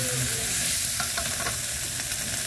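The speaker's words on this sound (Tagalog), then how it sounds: "Magsasangag po ako." Rice being stir-fried in a pan with sautéed shrimp paste (bagoong) gives a steady, close sizzle, with a few scraping stirring strokes in the middle. No one speaks.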